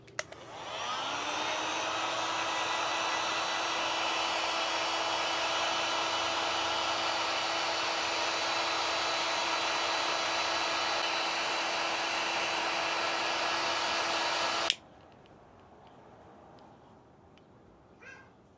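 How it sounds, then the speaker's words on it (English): A heat gun blows on 3D puff embroidery on a New Era hat, a loud, steady whining roar with a high tonal hum that runs for about fourteen seconds and then cuts off abruptly into near silence. "So before hitting it with the heat gun"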